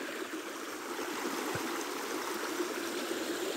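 A small mountain stream runs over stones and a gravel bed at its clear headwaters, a close, steady rushing babble with no voices.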